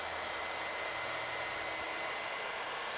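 A hair dryer blows in a steady, close, continuous whoosh while drying a metallic plastic coating on a leather steering wheel insert.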